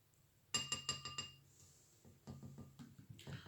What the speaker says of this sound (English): I'm going to add half a spoon of salt.